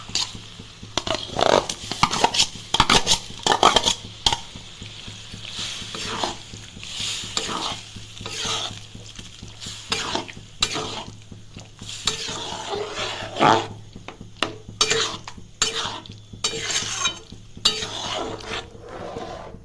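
Peas are stirred into ghugni in a pan, a spoon scraping and clacking in irregular bursts over a low sizzle, close and fairly loud, with no talking.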